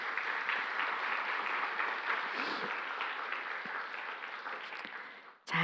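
A church audience claps steadily and fairly loudly for several seconds, then the applause fades out near the end.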